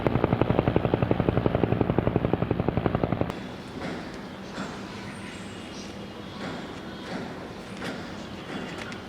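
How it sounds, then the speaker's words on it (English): A private helicopter's rotor thumps rapidly and loudly for about three seconds, then cuts away to a quieter, muffled stretch of faint background noise with soft irregular knocks. "Wow, nice private helicopter, guys."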